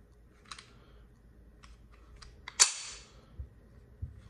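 A magazine ejected from a 1911 pistol during unloading before cleaning: a single sharp metallic click and slide of the magazine coming free, preceded by a few faint clicks of handling, heard up close in a quiet room.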